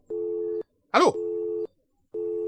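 Telephone busy tone after the other party hangs up: steady, evenly spaced beeps about half a second long, each followed by a matching gap, with a brief burst of other sound between the first two beeps.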